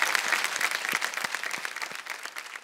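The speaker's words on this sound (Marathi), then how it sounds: "बरं एकदा जोरदार टाळ्या झाल्या पाहिजे" An audience at a kirtan performance bursts into steady, dense applause, many hands clapping together at a fairly even level throughout the short stretch, with a faint voice or crowd murmur mixed in.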